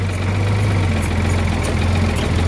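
A backhoe engine runs at a deep, steady idle while its stabilizer legs are lowered, with a continuous low rumble and hum and a few faint clicks above it, no talk.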